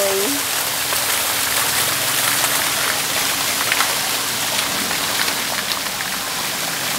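Steady, dense rain pours down at an outdoor church parish site being readied for Christmas, a continuous loud hiss of drops with a voice speaking briefly over it.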